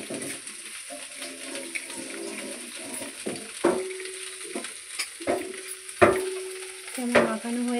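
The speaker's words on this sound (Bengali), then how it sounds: "এই শিম আলু আর বেগুন দিয়ে দিলাম গরম কড়াতে" Beans, potatoes and eggplant seasoned with salt, turmeric and oil sizzle in a hot wok, a steady close fry broken by repeated scraping stirs of a spatula, with no talk over it.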